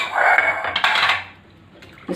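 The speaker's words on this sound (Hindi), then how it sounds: "इसको अच्छे से धुल लें," Lotus stems being rinsed by hand in water in a kitchen sink or bowl to remove soil, with close splashing and sloshing that fades toward the end.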